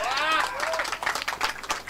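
Spectators at a cricket semi-final match clap and cheer together in a steady burst of applause, mixed with a loud announcer's voice over the crowd.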